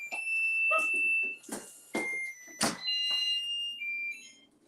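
A kitchen timer goes off while shrimp cooks, giving shrill, repeated electronic beeps mixed with sharp clattering kitchen noises.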